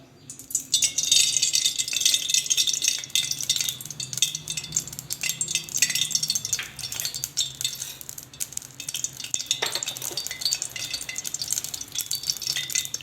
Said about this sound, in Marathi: आता आपण खीर करण्यासाठी पातीला घेऊ पातीला घेताना शक्यतो आपण जाडगोडाचं घ्यायचं